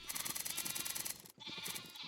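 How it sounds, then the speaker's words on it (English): Sheep bleating in Minecraft SkyFactory 5, a steady run of repeated game bleats with a rhythmic pulsing pattern, briefly cut off, then resuming, fairly close and alone without talk. "these are energetic sheep"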